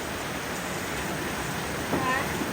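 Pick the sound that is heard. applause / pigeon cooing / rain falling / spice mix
rain falling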